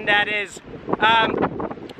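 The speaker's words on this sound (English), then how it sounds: "It's also super windy here." Strong wind buffets the microphone at the cliff edge of Land's End in San Francisco, a gusty rumble running under a man's speech.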